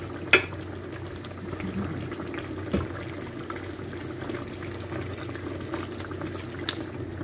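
Chicken curry with potatoes and carrots simmers in a pot, giving a steady, low bubbling hiss with a couple of faint clinks and no talking.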